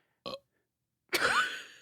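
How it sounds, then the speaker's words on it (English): A person lets out a short throaty sound followed by a longer, loud, croaking burp close to the microphone, with silence between them and no speech. "I thought we were gonna make it with no burps."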